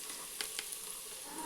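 Onions fry until reddish in a pan with a soft steady sizzle and two brief faint scrapes, heard close and with nobody talking.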